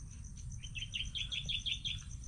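Many small birds chirp in quick repeated high tweets over a farm field recently sprayed for whitefly, faint and steady against a low outdoor rumble, no talking.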